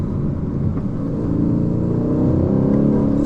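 Aston Martin Vantage engine pulling hard in fourth gear, a deep, loud, steady rumble rising gradually in pitch with no voices over it.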